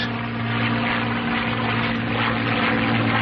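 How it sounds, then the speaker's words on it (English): North American P-51 Mustang fighter in flight just after takeoff as its flaps are raised, a loud steady propeller-engine drone with a constant low hum running continuously throughout. "The plane feels normal now that it's off the ground."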